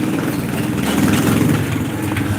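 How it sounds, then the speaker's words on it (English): Motorbikes pass along a street, producing a continuous broad engine rumble and roar at moderate loudness that swells slightly in the middle, with no clear speech over it. "Lots of bikes going through here right now, guys. Sorry about the noise."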